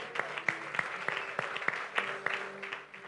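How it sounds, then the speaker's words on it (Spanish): Church congregation clapping for a brother during a sermon, a sparse, moderately distant patter of claps with a few sharper individual hits, fairly quiet and steady without voices on top. "Un aplauso para mi hermano."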